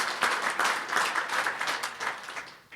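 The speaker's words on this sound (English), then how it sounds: "I think that's worth applause" An audience at a California political gathering applauds, a continuous dense wash of clapping at moderate distance that rises and falls gently and fades slightly near the end.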